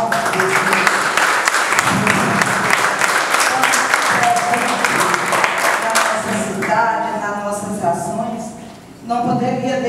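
Audience at an opening lecture for individual micro-entrepreneurs in Caxias applauding the mayor, dense clapping that fades into a voice speaking over a microphone.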